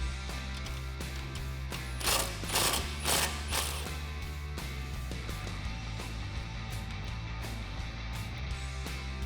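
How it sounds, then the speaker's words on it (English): A lower bolt on a Jeep Wrangler TJ lift-kit install is tightened with a 1/2 inch socket ratchet and wrench, giving rapid repeated ratcheting clicks close up with a few louder bursts of clicking midway. "once that's installed with a 1/2 inch socket and a 1/2 inch wrench, we can tighten that down"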